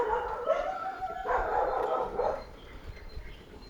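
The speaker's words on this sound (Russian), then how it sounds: "Как обычно, собаки в частном секторе." Dogs bark and yelp in a residential private-house district of Bykhov along a street, sounding at a middle distance over a constant low rumble of a moving vehicle.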